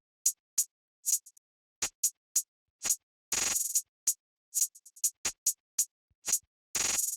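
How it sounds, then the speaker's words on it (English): Crisp, short drill beat hi-hat hits in a stuttering, irregular rhythm, with quick rolls and a few longer noisy bursts giving a glitchy, chopped feel. "So yeah, the hi-hat patterns ended up sounding like this."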